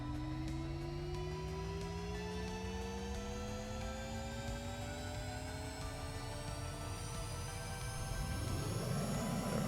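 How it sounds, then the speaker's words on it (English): A jet aircraft in the game SimplePlanes, with its brake on, spools its afterburner up for takeoff. A continuous engine roar holds steady with rising whining tones, then a louder surge arrives near the end. "Turn our brake on, get our afterburner going."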